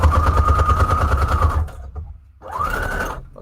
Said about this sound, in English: I think I'm just going to use a straight stitch just down the middle of it.